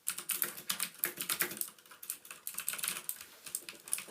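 Rapid typing on a full-size Cooler Master QuickFire XT mechanical keyboard with Cherry MX switches, a dense, continuous run of sharp, bright key clicks at close range with no voices.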